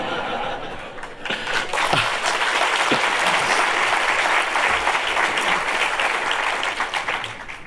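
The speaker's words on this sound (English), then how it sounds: "It's a well-deserved applause" Sustained applause from an audience at a 2019 MBA graduation ceremony, dense and steady for several seconds with a few louder claps near the start.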